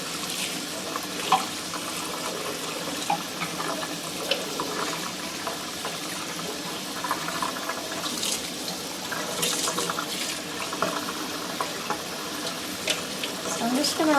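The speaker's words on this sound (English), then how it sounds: "So I'm just going to rinse it till almost the water is mostly clear." Running tap water splashes steadily over a tie-dye T-shirt being rinsed in a sink, a continuous close wash of water with small sloshes and drips throughout.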